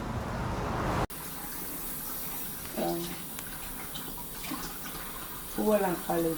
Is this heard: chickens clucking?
no